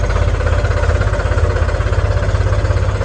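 A tractor engine chugs steadily at idle, a loud, close, rhythmic low thumping that stays constant throughout.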